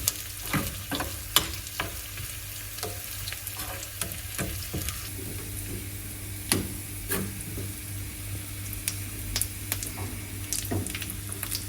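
Onions and curry leaves frying in a pan for a mango fish curry with coconut milk, a steady close sizzle with scattered pops and occasional clinks of stirring throughout, no talking.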